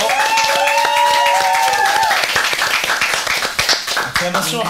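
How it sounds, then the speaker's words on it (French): Audience clapping and light cheering at a comedy show, rapid hand claps over a shouting voice and background music, with the applause thinning out toward the end. "Acclamation un peu légère pour Nirina."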